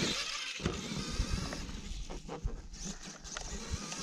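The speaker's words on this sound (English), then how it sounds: "this is the only monster truck up and going" An RC monster truck drives and jumps on rough ground, its small electric motor whining in bursts with scattered clattering thumps and impacts from landings, moderately close and fairly quiet.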